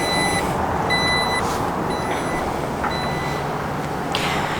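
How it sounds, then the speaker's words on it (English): Power liftgate of a 2021 Jeep Grand Cherokee operating, with a series of short electronic warning beeps over a steady broadband rumble. "You also do have your power lift gate, as you can see, equipped right there."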